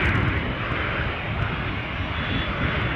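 A Jet2 airliner departing Newcastle airport roars as a steady, broad engine rumble with a hiss on top, loud and continuous throughout.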